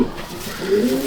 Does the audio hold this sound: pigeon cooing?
yes